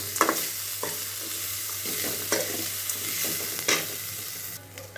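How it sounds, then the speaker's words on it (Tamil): Carrots, green peas and curry leaves sautéed with onions in a pan for potato kurma, stirred with soft clinks of a spoon over a low, steady sizzle. "இப்போது நம்ம எடுத்து வச்சுருக்கிற கேரட், பச்சை பட்டாணி, கறி லீவ்ஸ், கருவேப்பிலை எல்லாத்தையும் சேர்த்து வதக்கிக்கலாம்."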